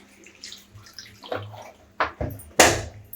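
Water poured into refined flour while mixing dough for chicken momos, heard as a few short splashy pours that grow louder, the last burst the strongest, with no talking.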